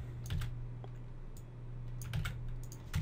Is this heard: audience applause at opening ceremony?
no